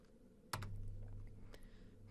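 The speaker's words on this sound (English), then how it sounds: "So I had to type it in." Keys tapped on a computer keyboard, a quick cluster of soft clicks followed by a single later keystroke, faint and close in a quiet room.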